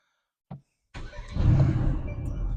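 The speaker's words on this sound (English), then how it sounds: "let's start up the car" A short click, then a Mercedes-AMG GT C engine cranks and fires up, settling into a loud, rumbling idle that continues to the end.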